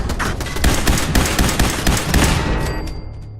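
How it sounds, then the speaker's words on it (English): Fallout 4 machine gun turret fire rattles in a continuous loud burst of rapid shots, then cuts off and leaves a faint high electronic tone behind. "after taking out another machine gun turret"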